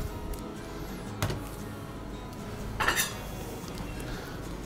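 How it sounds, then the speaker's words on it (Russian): A ceramic plate clinks lightly as carp rolls are set down onto it, with a couple of soft knocks in an otherwise quiet restaurant kitchen. "Будем выкладывать их на вот такую тарелку."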